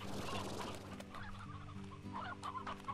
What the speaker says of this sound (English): Oh, up here is just chickens.